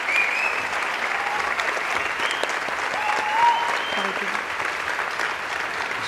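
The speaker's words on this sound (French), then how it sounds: "on applaudit" An audience at a university lecture on mining and material limits at UNIL applauds in a sustained, even wash of clapping, with a voice faintly audible over it.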